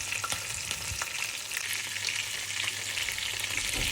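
Mackerel frying in a pan, a steady close crackling sizzle of hot oil with occasional louder pops and spatters, continuous throughout with no talking.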